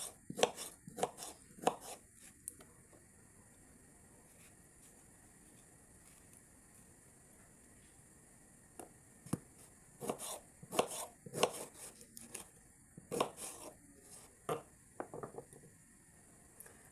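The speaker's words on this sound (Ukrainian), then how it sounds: "Та нарізаю кубиком." A knife chops a pear into cubes on a board in irregular bursts of sharp taps, with a quiet pause in the middle before the chopping resumes.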